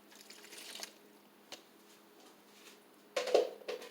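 Water is poured into shrimp teriyaki sauce cooking in a pan on high heat: faint sizzling and dripping, then a brief louder splash and hiss near the end.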